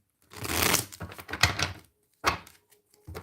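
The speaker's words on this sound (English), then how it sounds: "I'm just shuffling the cards." A deck of tarot cards is shuffled up close, making bursts of papery riffling and flapping separated by short pauses.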